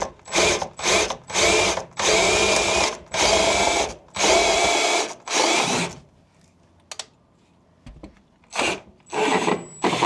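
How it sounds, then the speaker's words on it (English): Power drill boring a hole through a wood rafter overhead, running in repeated loud bursts of about a second each, then pausing with faint clicks before two more short bursts. "It's better to drill the hole up top first"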